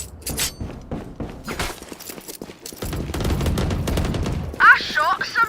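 Gunshots in a tactical shooter game crack out as several sharp, separate reports followed by a denser stretch of rapid fire, close and punchy, with other game effects around them.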